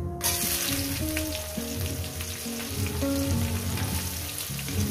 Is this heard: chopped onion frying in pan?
yes